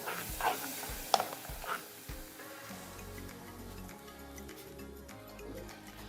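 Tomatoes, fresh and blended, are stirred in a pan as a vegan calzone filling, with a few knocks and scrapes of a spoon early on, then a soft low sizzle and quiet stirring.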